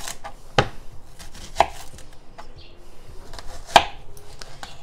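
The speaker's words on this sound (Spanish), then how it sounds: "Y la vamos a partir en cuatro" A knife cuts an onion into quarters on a board in a kitchen, with three sharp, separate chopping knocks spaced over a few seconds against quiet room sound.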